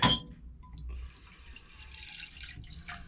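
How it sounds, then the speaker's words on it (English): Water runs and trickles into a saucepan aboard a narrowboat kitchen, a soft steady pour with faint splashes and drips, fairly quiet after a brief louder knock at the start. "And I'm going to put a little bit more water into the saucepan."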